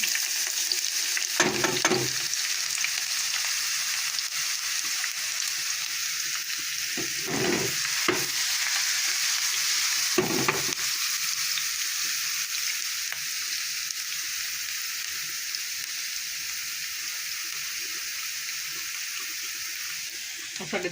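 Tempering (tadka) sizzles into cooked mash dal (urad) with a steady frying hiss that runs throughout. A few brief louder bursts of crackle and stirring break through near the start and middle.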